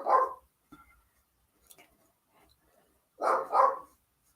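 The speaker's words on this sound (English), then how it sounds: "What am I gonna do with that dog?" A dog gives two short gruff barks, a single bark at the start and a quick double bark near the end, heard close in an otherwise quiet room, with faint small noises in between and no speech.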